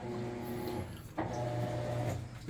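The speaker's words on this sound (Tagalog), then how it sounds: "the washing machine is operating" A solar-powered washing machine runs off an inverter, giving a steady mechanical hum and whir that holds throughout, with a brief dip and a clunk near the middle before the drive picks up again.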